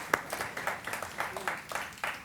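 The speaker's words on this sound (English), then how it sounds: "Big applause for him." Scattered applause from a conference audience in a hall, a modest number of hands clapping unevenly for a couple of seconds at moderate volume, with faint voices underneath.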